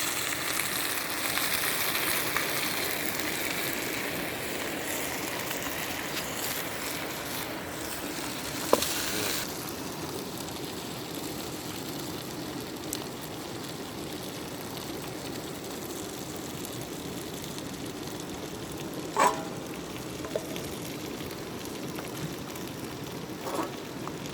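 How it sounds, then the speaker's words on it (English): Mongolian beef sizzles and fries over a campfire at a riverside campsite on Algoma's Whiskey Lake Loop after dark, a steady close crackling hiss broken by a couple of faint pops, with no voices. "we got some Mongolian beef going on in the fire here"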